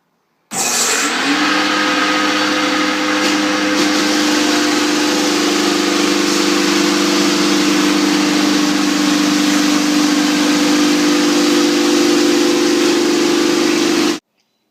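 A floor sander fitted with 36-grit paper grinds across a stained hardwood floor, its loud, steady motor drone starting abruptly, running continuously and cutting off near the end.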